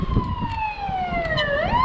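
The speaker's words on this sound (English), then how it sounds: "That sounds like a police car." A police car siren wails on a Los Angeles street in Playa del Rey, a steady descending tone that sweeps back upward near the end, moderately loud over road and traffic rumble.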